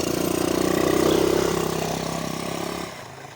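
A quad bike engine idles steadily with a low, even hum, then cuts off near the end, leaving quiet.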